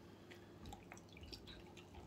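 Non-alcoholic children's champagne, really a lemonade, poured into glasses, giving soft dripping, splashing liquid sounds against a steady low background hum, with no talk.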